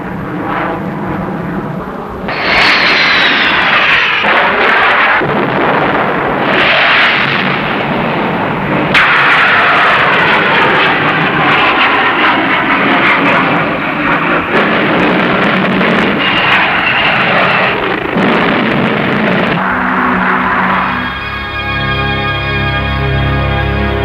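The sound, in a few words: fighter aircraft engine flying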